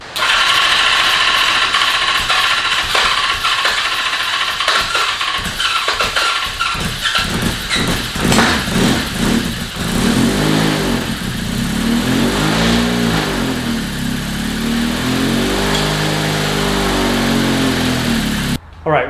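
A Honda CB650 cafe racer motorcycle engine cranks with rapid mechanical clatter, then catches and runs at a rough, uneven idle with pulsing revs, loud and close throughout.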